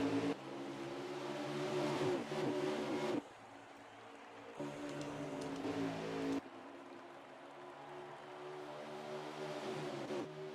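Race cars at Michigan International Speedway pulling away at a green flag start, droning engines rising in pitch as they accelerate, heard faintly with a couple of sudden cuts in level.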